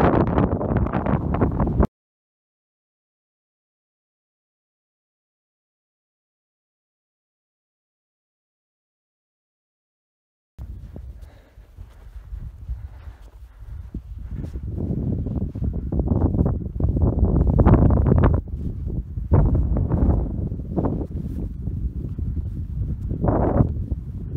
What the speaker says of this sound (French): il y a toujours beaucoup de vent